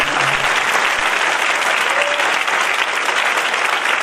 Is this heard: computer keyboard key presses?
no